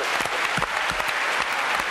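A studio audience at a French television show applauds loudly and steadily throughout, a dense wash of clapping with no pauses.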